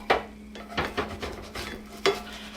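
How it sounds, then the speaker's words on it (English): A utensil scrapes melting cheese sandwich fillings off the bottom of a hot pan in about five quick, rasping strokes over a faint sizzle, close up and without speech. "scrape them up, make sure they're not sticking to the bottom of the pan"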